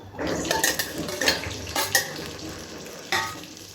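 Onions, green chilies and tomatoes sautéing in a pan, with steady sizzling and frying under repeated scraping stirs of a spoon against the metal, close and moderately loud, no talking.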